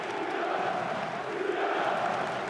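Crowd in a handball arena during a Serbia versus Sweden EHF EURO 2012 match, a continuous roar of cheering and clapping from a large audience, steady and distant-sounding throughout.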